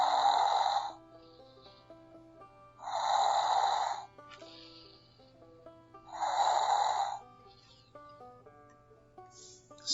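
Snoring in a read-aloud construction-site bedtime story, heard as three loud, nasal, voiced snores at a slow, steady rhythm with quiet pauses between, up close and alone. It may be a voice or sound effect imitating sleep.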